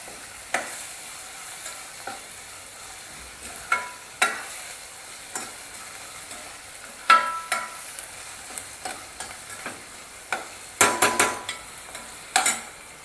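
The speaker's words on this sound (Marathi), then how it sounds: "दोन तीन मिनटं चांगलं परतून घ्यायचं हे डाळ टोमॅटो कांदा वगैरे" Chana dal, tomato and onion are sautéed for a chana dal pulao, with sharp intermittent stirring taps and scrapes over a faint, steady sizzle that thickens into a quick cluster of strokes near the end.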